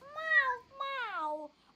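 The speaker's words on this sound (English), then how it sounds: "Meow, meow, meow." A meow for Gary the snail, the SpongeBob character, played during a plush toy show: two clear, close cat meows, the second longer and falling in pitch, with no talk.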